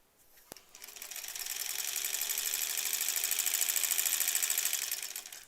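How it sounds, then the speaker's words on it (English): A sewing machine pieces a quilt back, starting up and then running in one continuous fast, even stitching burst, close and fairly loud, with no talk over it. "we're sewing forever until we have some large chunks"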